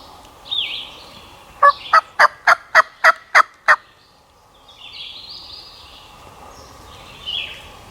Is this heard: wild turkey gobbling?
yes